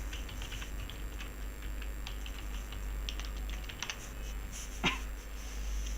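Fingers type on a computer keyboard, producing a steady patter of light, soft clicks at an even pace, fairly faint over a low constant hum.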